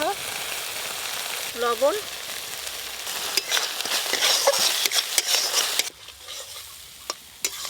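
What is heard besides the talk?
mustard paste spices frying and being stirred in a pan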